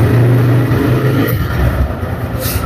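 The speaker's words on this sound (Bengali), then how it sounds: "বাইকটি যদি ইঞ্জিন সাউন্ড আপনাদেরকে শোনায় দেয়" A 2024 black TVS Raider 125cc motorcycle idles close by, its engine putting out a steady low rumble that dips slightly as it keeps running.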